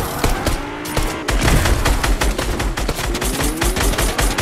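Rapid automatic gunfire in the Fortnite video game, dense bursts of shots cracking almost continuously for several seconds, loud and close, with no voices.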